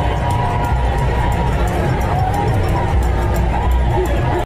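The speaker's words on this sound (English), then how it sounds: "I want to show you this huge crowd of protesters in Hartford," Huge crowd of protesters in Hartford, Connecticut: a dense, loud roar of many voices with cheering and shouting blending into continuous babble, steady throughout before cutting off abruptly.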